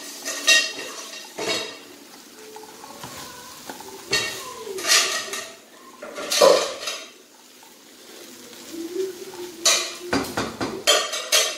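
A spoon stirs egg masala in a pan, producing intermittent scraping and clinking strokes against the metal with soft sizzling between them, close and moderately loud.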